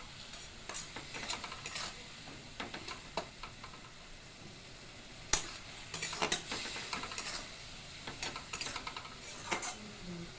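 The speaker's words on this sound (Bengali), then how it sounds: "একটু সামান্য জল দিতেছি যাতে মশলাগুলো না পুড়ে। এখন একটু কষায় নিব।" Spices for a fish curry with potato and eggplant are stir-fried in a pan with a splash of water, giving a soft sizzle broken by repeated scraping spatula strokes and clinks against the pot.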